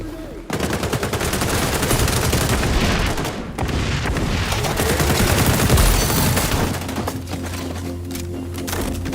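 Rapid automatic gunfire from a video game rattles loudly and nearly continuously in dense bursts, with short pauses, close and dominant in the mix.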